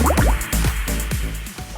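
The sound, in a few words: pancake batter poured into a hot pan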